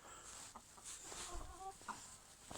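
A Zwergsundheimer rooster clucks softly in a few short bursts among farm chickens, faint and somewhat distant over light background noise.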